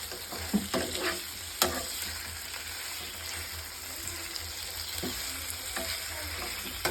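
Chicken frying in a pan and being stirred, a steady close sizzle with scraping, clattering spoon strokes at irregular intervals, no voices.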